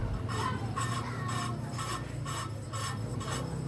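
Engine valves on a Honda CBR 150 cylinder head being lapped with fine lapping compound, a close rhythmic gritty rasp in regular strokes about every half second, alone without talk.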